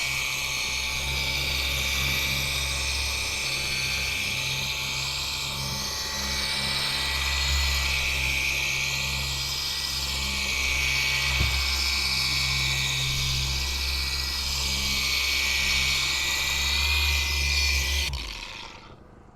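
A Ryobi cordless free-spinning orbital polisher runs continuously with a steady whirring hum, used on a boat at anchor, then winds down at the very end.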